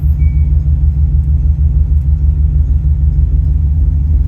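A fuel-injected car engine idles close by with a smooth, steady low rumble and no lopey cam beat, continuous and loud throughout.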